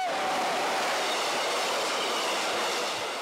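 A train rolls through a railway crossing, filling the clip with a loud, steady roar of wheels and rail noise and a thin squealing tone near the start.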